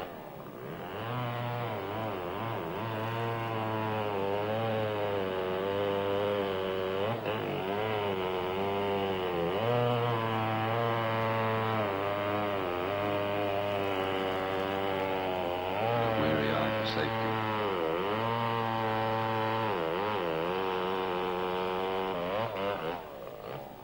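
Chainsaw cutting into a sappy tree in a timber town in West Gippsland, Victoria, the engine droning continuously and loudly with pitch dipping and rising as the chain bites and frees.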